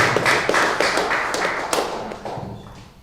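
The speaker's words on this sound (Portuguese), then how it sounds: "Dá uma salva de palmas feliz para Jesus nessa noite, aleluia" A church congregation claps together for about three seconds, a steady run of hand claps that gradually fades in a reverberant hall.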